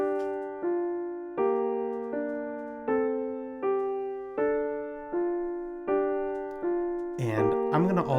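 A Synthstrom Deluge sequences a synthesizer melody as a run of sustained plucked notes that decay evenly, about one per beat and moderately loud. A brief burst of speech cuts in near the end.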